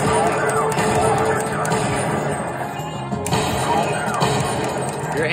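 Gunfire and impact effects from a Konami Silent Scope shooting arcade cabinet, a dense loud barrage of shots and crashes running continuously, with other arcade machines and noise mixed in.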